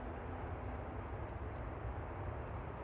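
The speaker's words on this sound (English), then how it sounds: "EasyJet 76962 to Lisbon, rolling now, OE IDO, A320 Classic, cleared for takeoff" An EasyJet Airbus A320 Classic rolling for takeoff at Manchester Airport, bound for Lisbon, heard as a steady, fairly faint low engine roar that holds constant throughout with no talking.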